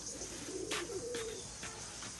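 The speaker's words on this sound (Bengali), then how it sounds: "এই যে দুইটা কবুতর দেখেন" A pair of domestic pigeons kept for tournament flying coo softly in a low, faint murmur. A few soft rustles sound around them, and no one speaks.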